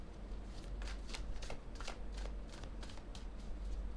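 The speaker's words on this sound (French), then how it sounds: "Je mets une autre carte" Playing cards shuffled and laid down in a steady run of soft riffling flicks and papery slaps, close up and faint over a low room hum, with no talking.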